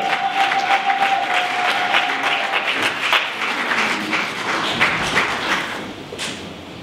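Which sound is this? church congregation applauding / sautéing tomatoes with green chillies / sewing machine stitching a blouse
church congregation applauding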